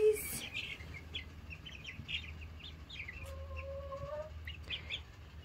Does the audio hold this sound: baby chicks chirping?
yes